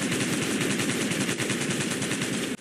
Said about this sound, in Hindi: पुलिस ने अंधाधुंध फायरिंग स्टार्ट कर दी।